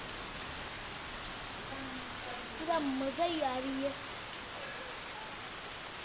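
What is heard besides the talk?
heavy rain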